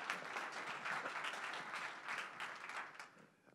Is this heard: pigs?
no